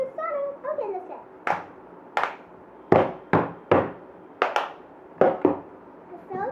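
Hands clapping in a children's clapping game, a run of sharp, close claps in an uneven rhythm, with a voice talking at the start.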